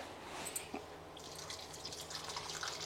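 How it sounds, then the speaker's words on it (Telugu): RO-purified water is poured into a mixer grinder jar in a home kitchen for palak dosa batter, a faint trickle and drip of liquid with a brief splash. "సో ఇప్పుడు కొన్ని వాటర్ వేసాను."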